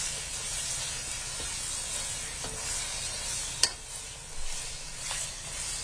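Chicken fries in a pan over high heat with a soft continuous hissing sizzle, a light clink now and then, quiet and steady with no talking.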